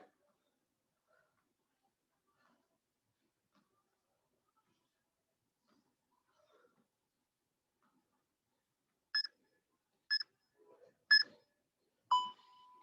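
A workout interval timer gives a series of short electronic beeps near the end, several evenly spaced bright tones and a longer final one, after long near-silence with faint, quiet talk.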